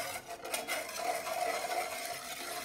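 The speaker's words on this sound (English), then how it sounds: "And it just says to stir that until thickened." A small spatula stirs sugar, flour, salt and milk in a saucepan over low heat, soft scraping strokes repeating quietly and close, with no voices.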